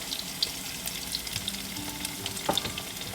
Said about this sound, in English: I'm going to allow it to saute again for a little bit